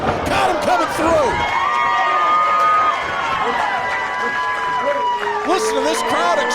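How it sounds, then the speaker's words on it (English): A live crowd at a pro wrestling show roars and cheers loudly and continuously, with shouts and whistles rising and falling across the whole stretch. "Listen to this crowd exploding for Jake Bosch."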